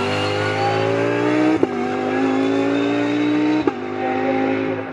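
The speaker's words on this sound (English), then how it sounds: "these Ginettas are probably one of the more forgiving GT cars to be driving" Ginetta GT race car in a British Endurance Championship race at Snetterton, its engine loud and close, pitch climbing through the gears with two sharp upshift breaks.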